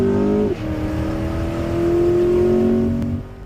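A 2026 Corvette E-Ray hybrid with 655 combined horsepower, all-wheel drive and an 8-speed dual clutch accelerates hard, its engine tone climbing steadily through a gear change, loud and close, with no talking.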